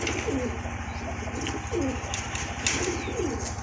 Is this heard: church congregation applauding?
no